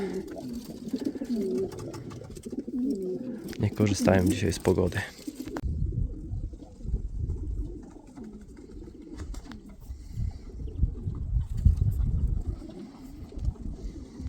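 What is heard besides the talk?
pigeons cooing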